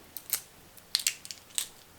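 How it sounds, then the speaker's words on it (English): Shells cracking and peeling off fresh eggs, just days old, after pressure cooking: a handful of faint, close, dry crackles and crisp snaps in small clusters over a quiet background. "How do these eggs peel?"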